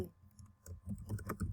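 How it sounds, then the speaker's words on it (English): Faint, quick keystrokes on a computer keyboard, an uneven run of soft clicks in a quiet room over about a second and a half. "I can't type this morning."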